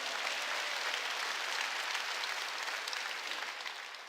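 A church congregation claps during a Korean sermon, an even, hissing roll of many hands heard from some distance, fairly quiet and continuous throughout, with no speech on top.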